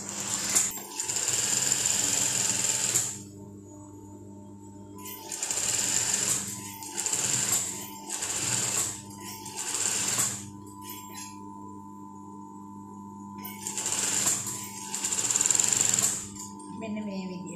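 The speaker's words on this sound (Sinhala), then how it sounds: "ඔය විදිහට වාටිය මහලා අවසන් කරගන්න." A sewing machine stitches the hem of a dress in several bursts of rapid, buzzing needle clatter separated by quieter pauses, close and fairly loud, with someone speaking over it.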